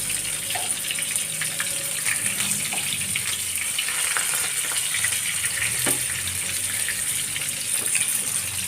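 Fish 65 pieces fry in oil with a steady, hissing sizzle, close and constant, along with occasional faint clinks.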